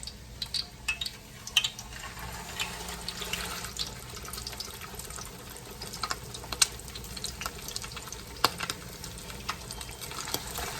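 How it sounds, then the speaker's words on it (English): Mackerel patties sizzle in a hot frying pan, a steady crackling hiss with scattered sharp pops and spits throughout, fairly quiet and close, with no one talking. "our pan is hot and ready for us to start adding our mackerel"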